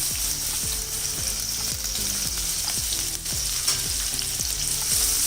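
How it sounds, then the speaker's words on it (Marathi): Finely chopped onion dropped into hot oil seasoned with asafoetida for a prawn green curry gives a continuous close hiss and sizzle, with faint regular low knocks underneath and no talking. "आता यामध्ये एक बारीक कांदा मी चिरून घेतलेला आहे तो घालूया."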